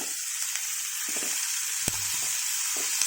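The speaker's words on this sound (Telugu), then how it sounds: "నూనె వేసుకొని బచ్చలాకేసుకోవాలి" Malabar spinach leaves frying in hot oil, a steady bright sizzle with occasional soft crackles and stirring bumps, close and continuous.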